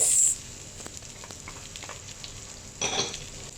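Garlic and onion sauté in oil for pork pochero, with a soft steady sizzle, a clink at the start and a brief louder burst of stirring near the end.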